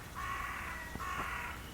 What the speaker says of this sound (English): The crows are noisy today.